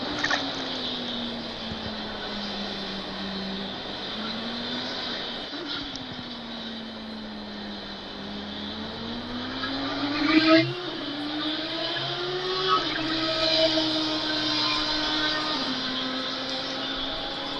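Race cars lapping the Barcelona circuit in a racing video game, a steady engine drone with rising and falling pitch sweeps as cars shift gears, a sharper burst near the middle, continuous and moderately loud throughout.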